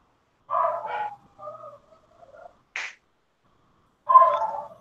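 Several dogs bark in short, separate bursts with quiet gaps between, a couple of yips and whimpery calls mixed in, fairly close and clear with no talking.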